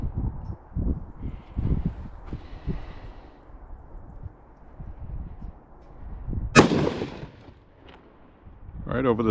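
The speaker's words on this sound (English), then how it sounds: "We're going to shoot at a 12-inch target." A DPMS LR-308 first-generation AR-10 rifle in .308 fires one sharp, loud shot outdoors at a 12-inch target, a single crack standing out after quieter rustling and voices.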